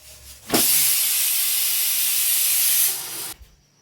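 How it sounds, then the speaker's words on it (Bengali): A stuffed eggplant paratha hits a hot pan with a sudden loud hiss that holds steady for a couple of seconds, then fades quickly. "এইবার আমি সুন্দর ভেজে নেব।"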